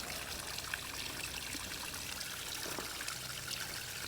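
Cold spring water trickles and burbles steadily at close range, a soft continuous splashing with no voices.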